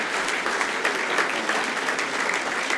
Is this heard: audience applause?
yes